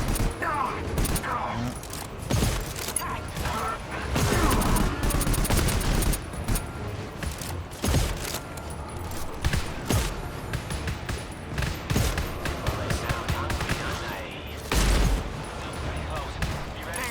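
Rapid gunfire in the co-op shooter video game GTFO crackles in dense volleys of sharp close shots and bursts, nearly continuous, with players talking over it.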